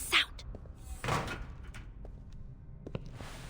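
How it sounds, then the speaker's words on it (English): A door shut hastily in the video game Reverse: 1999, one quick thud near the start, followed by faint knocks and shuffling in a quiet room. "She closes the door with haste and dives behind a stack of supply boxes."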